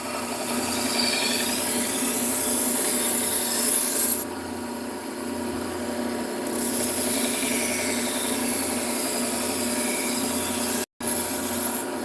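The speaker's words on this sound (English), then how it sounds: "let's go ahead down to the Trizac A30, which is a 600 grit. We'll refine all these edges a little bit." Steady, continuous abrasive rubbing as edges are sharpened on a Trizac A30 600 grit belt, a loud even rasping hiss that runs almost the whole clip with only a brief dip in intensity and no talk.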